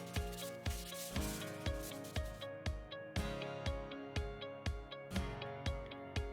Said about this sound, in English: A little bit of hand sanding to just knock off the rough edges